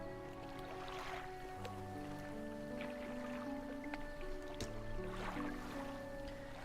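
A small fishing boat's engine in the video game Dredge chugs at a quiet idle, a low, steady hum with faint watery lapping and occasional soft drips, heard alone at a distance.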